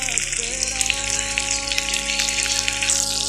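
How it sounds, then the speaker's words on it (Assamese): Dried fish frying in a pan, done in a Bengali-style recipe, gives off a steady, bright hiss and crackle of sizzling oil, with a faint low hum behind it. "মোৰ মাছ ফ্ৰাই হৈ গ'ল।"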